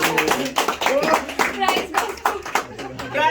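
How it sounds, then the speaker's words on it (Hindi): Clapping during a Diwali office gift giveaway, with brisk hand claps scattered among loud, excited talking from the group. "ताली।"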